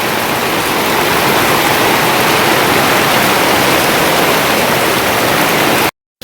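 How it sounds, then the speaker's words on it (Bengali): Steady, dense hiss of heavy falling water, like rain or a strong spray, runs loud and unbroken for about six seconds before cutting off abruptly. "দেখো ধোঁয়ার মতো যেন বৃষ্টি হচ্ছে"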